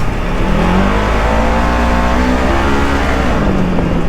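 A truck engine revs hard under throttle, loud and close, a continuous roar with pitch rising and falling as the gas is worked, no voices over it.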